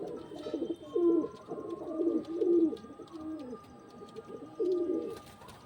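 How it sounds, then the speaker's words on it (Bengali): Female pigeons in a home loft coo in repeated low rolling phrases, close and fairly clear, with short pauses between calls. "এই হচ্ছে পায়রা"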